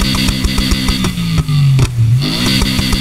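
A V6 engine swapped into a Ford Focus RS in Need for Speed Heat, revving loudly and closely, its pitch rising and dipping with sharp gear-change cuts throughout.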